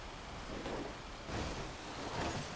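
Steady rain hiss with low rumbling swells of thunder from a GTA 5 storm, constant and fairly faint with no voices.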